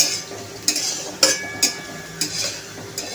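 Sabudana khichdi browning in a pan, a soft sizzle under a few distinct metallic clinks and scrapes of a spoon stirring against the pan, no talking.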